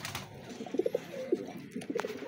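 Soft, low cooing calls from racing pigeons, several short hoots scattered irregularly over a faint background hum, fairly close.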